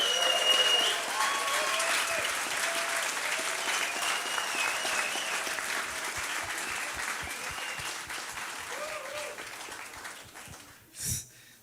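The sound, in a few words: audience applause at a memorial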